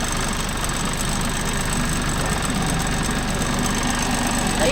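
An 80 hp four-wheel-drive Deutz-Fahr tractor fitted with a cultivator, idling steadily nearby on farmland, with a constant low engine rumble and no break in the sound.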